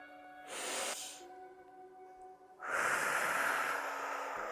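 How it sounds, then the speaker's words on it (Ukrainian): During a tummy-toning workout, two close, breathy nasal breaths are heard: a short sniff-like inhale, a pause, then a longer rushing breath that carries on to the end. "Вдих носом буде коротким."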